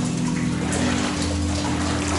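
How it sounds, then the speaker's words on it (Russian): A small waterfall splashes inside an underground tunnel beneath Tallinn, a constant, even rushing wash of falling water with a low steady hum beneath it and no voices. "впереди у нас какой-то небольшой Ниагарский водопадик"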